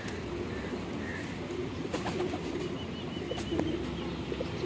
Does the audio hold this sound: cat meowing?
no